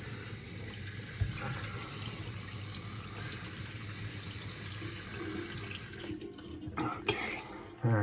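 Cold tap water runs steadily into a sink with a continuous hiss and splash, close and fairly loud, and stops after several seconds, leaving a few faint knocks and drips.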